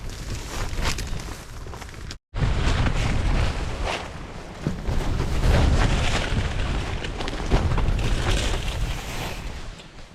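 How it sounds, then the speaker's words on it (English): Strong wind roars around a tent on a winter mountain ridge, a loud continuous low rumble with swelling gusts and one momentary cut, no voices. "It is a windy one out there."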